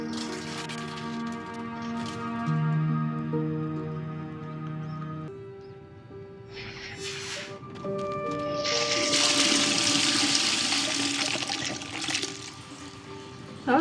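Water sloshing and splashing in the Hogwarts Legacy video game, layered over sustained musical tones, with a louder burst of rushing splash toward the end; no talk.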